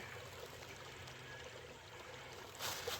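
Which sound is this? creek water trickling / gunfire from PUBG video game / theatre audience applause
creek water trickling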